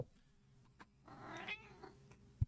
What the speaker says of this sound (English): Boo Kitty wants attention and food.